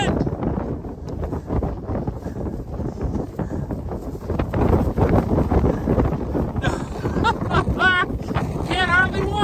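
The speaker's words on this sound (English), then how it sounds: "You have to lean into the wind." Strong gusting wind roars across a microphone on a mountain trail in the San Jacinto section of the Pacific Crest Trail, loud and constant, with a person speaking briefly over it.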